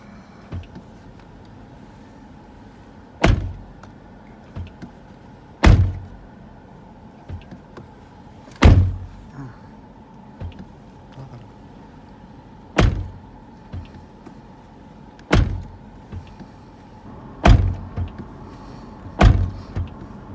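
A car's driver door that won't register as closed gets shut again and again, making about nine solid thuds spaced a few seconds apart, with quiet rustling in between.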